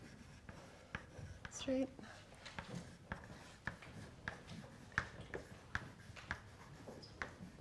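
Chalk tapping and scraping on a board during a physics lecture on celestial holography, a steady run of short ticks and scratches close by, with the lecturer speaking now and then.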